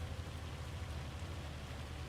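Rain falling in a farming simulation game, a steady, soft, even hiss of rainfall throughout, faint and alone with no talk.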